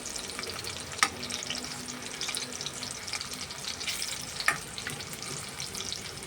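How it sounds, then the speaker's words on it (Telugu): Eggplant pieces sizzle steadily in an oil-filled pan, a continuous crackling fry close up with a couple of sharp clicks as they are stirred. "మనకి చాలా చక్కగా ఫ్రై అయిపోయినాయి కదండి. ఇంకా కొంచెం ఫ్రై చేసుకుందాం"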